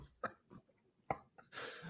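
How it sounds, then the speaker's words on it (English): A man coughs in short, sharp bursts during an online conversation, with two distinct cough hits and a longer noisy exhale toward the end, fairly close and alone without talk. "my coughing just destroyed his connection again"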